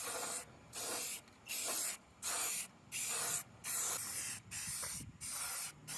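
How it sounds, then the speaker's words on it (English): Rust-Oleum high heat spray paint is applied to a fire pit made from a washer tub in eight even, steady hissing bursts of roughly half a second each, separated by brief gaps, with no one talking. "Using Rust-Oleum high heat for this"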